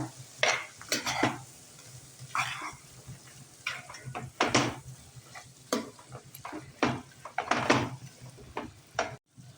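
Yogurt is stirred into vegetables in a pot for veg biryani, with repeated close scraping and clacking strokes of a ladle against metal over a low sizzle, coming in irregular bursts.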